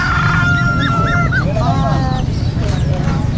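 A puppy at a livestock market in San Carlos City, Pangasinan gives a run of high, close yips and whimpers over busy crowd chatter, with people talking throughout.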